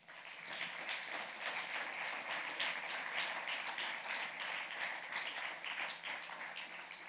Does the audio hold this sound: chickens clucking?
no